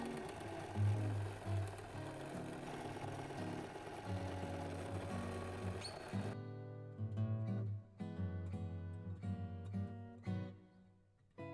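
A sewing machine runs in continuous bursts as it stitches ribbon onto a Christmas stocking, then stops and starts in shorter runs with small clicks between them, close and fairly quiet.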